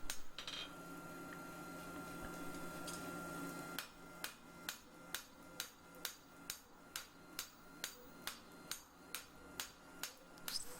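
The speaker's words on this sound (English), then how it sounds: "I've moved on to the smaller hammer." A steady background hum, then a small forging hammer strikes a hot steel farrier's knife blade in a regular ringing rhythm, more than a dozen sharp clanks close by.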